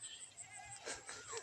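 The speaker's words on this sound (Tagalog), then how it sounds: "Nakawala yung kambing." A goat loose among a direct-seeded bitter gourd planting bleats faintly in a wavering, quavering call, with a second bleat near the end, over steady outdoor background noise.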